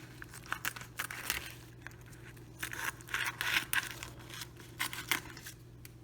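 Crinkly plastic rustling with crisp snipping and crunching bursts, close by and uneven, as a gyros sandwich kit's plastic packaging is cut open with scissors.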